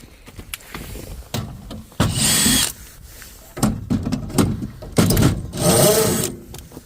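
A power drill whirs in several short, close bursts while backing out the two screws holding a heat exchanger bracket, with brief gaps and small clicks and rattles between runs.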